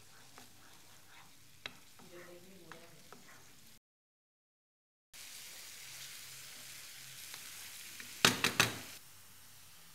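Papaya glaze cooking in hot oil in a pan gives a soft, steady sizzle that cuts out briefly, returns a little louder, and ends with a few sharp clatters, with no voices.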